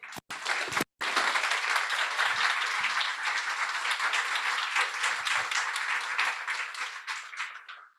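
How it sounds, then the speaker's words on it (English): A crowd at a graduation ceremony gives the graduates sustained, loud applause, thick and continuous for several seconds before thinning out toward the end. "I think they need all a round of applause"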